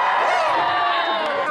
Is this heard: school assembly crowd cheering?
yes